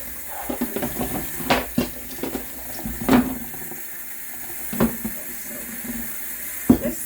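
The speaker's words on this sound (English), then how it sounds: "Over here, I'm going to give a little rinse." Tap water runs steadily into a kitchen sink while dishes are rinsed, with scattered clinks and knocks of dishware against the basin over the flow and no speech.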